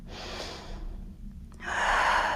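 A deep, audible inhale through the nose during an easy beginner yoga flow, a soft breath rising into a fuller, louder rush of air, close and alone.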